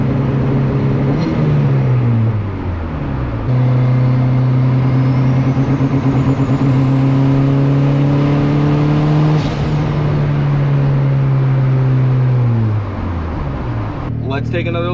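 A cheap turbocharged Honda Civic with anti-lag accelerates hard in second gear. The loud, close engine note climbs steadily in pitch through several sustained pulls, with brief dips between them.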